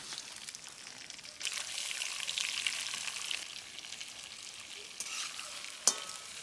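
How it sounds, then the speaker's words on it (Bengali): Shrimp (prawns for a spicy curry) sizzling and frying in hot oil, a steady crackling hiss that swells after a moment, with a brief sharp clink near the end. "তেলটা পাইকে আইছে, এখন মাছটা আমি একটু ভাইজে নেব"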